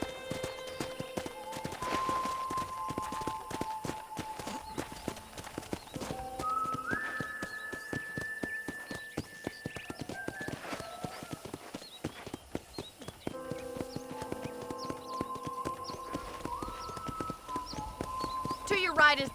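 Steady hoofbeats clip-clop as a horse is ridden in Red Dead Redemption, a continuous rhythmic patter with occasional whistles and tonal game sounds layered over it throughout.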